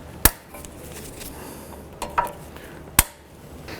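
Metal tab bent over with pliers and tapped during a wheel bearing and hub replacement on a 2006-11 Honda Civic, heard as three sharp, isolated metallic knocks spaced about a second apart, close and clear, with no talking.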